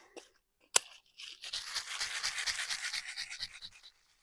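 A sharp snip rings out, then a few seconds of dry crunching and scraping as pruning shears cut through a tough luffa stem, close by and fairly loud.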